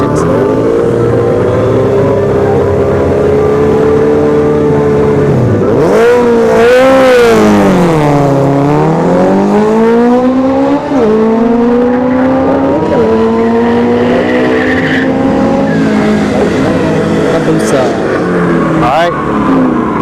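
A drag strip launch pairs what may be a ZX-10R motorcycle against another machine at a test-and-tune session: loud engines rev and climb in pitch, dip under load, then wind up hard and fade as the vehicles pull away.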